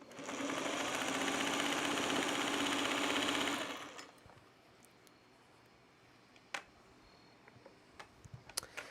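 A sewing machine stitches jelly roll quilt blocks in a steady, fast, close mechanical whir for about four seconds, then stops, leaving faint clicks and handling noises.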